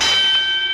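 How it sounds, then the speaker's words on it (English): A bell rings once in a Ren and Stimpy cartoon, a bright metallic strike that rings on with clear sustained overtones and fades over under a second. "The bell!"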